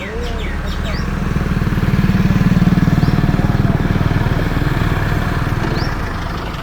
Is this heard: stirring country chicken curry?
no